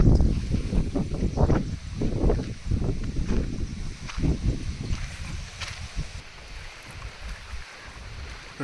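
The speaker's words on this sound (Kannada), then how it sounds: "ನೋಡಿ ಫ್ರೆಂಡ್ಸ್, ನೀರಿನ ಅಲೆಗಳು ಹೆಂಗೆ ಬಡಿತಾ ಇದ್ದಾವೆ." Lake water slaps and laps against the shore in strong wind, with irregular splashing surges over a steady rushing wind noise that buffets the microphone. The sound stays close and fairly loud throughout.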